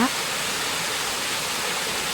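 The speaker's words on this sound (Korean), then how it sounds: "작은 폭포도 있습니다." Continuous bright rushing of a small waterfall in a bamboo forest, a steady broadband wash of falling water with no breaks.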